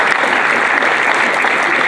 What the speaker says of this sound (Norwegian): Vi gjør en stor applaus.